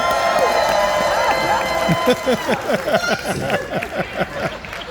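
A studio audience at a celebrity game show cheers, whoops and claps loudly in a dense, sustained roar, with shouted voices rising out of the crowd noise throughout.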